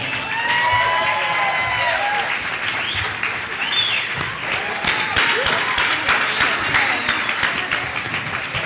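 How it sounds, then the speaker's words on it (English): A dinner crowd gives graduates sustained, loud, dense applause at a medical school graduation dinner for the class of 2013, with scattered cheers and voices mixed into the steady clapping. "Let's give them a round of applause"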